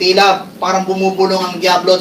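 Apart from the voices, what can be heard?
No everyday noises stand out.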